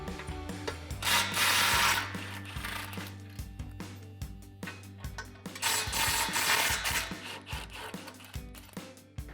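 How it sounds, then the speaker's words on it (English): A ratchet with a 16mm socket working the exhaust flange bolts on a 2019-2024 RAM 1500: quick, rhythmic clicking strokes in two long runs, close and fairly loud, with no talk. "grab your 16mm socket and disconnect these two bolts"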